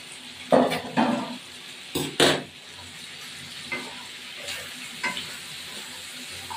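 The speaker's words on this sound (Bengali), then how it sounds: "এবার ইঁচড়গুলো দিয়ে ভাজা ভাজা হবে।" Boiled young jackfruit fries in a pan with onion, garlic and ginger, a steady low sizzle broken by several loud scraping stirs and clanks of a spoon against the pan, close by and with no talk.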